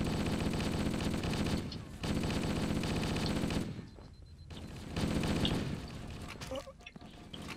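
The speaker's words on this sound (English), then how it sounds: "Ow, stop shooting at me, please." Sustained assault rifle fire in Halo 1 rattles in long, dense automatic bursts with a short pause around the middle, loud and close, while a player talks faintly underneath.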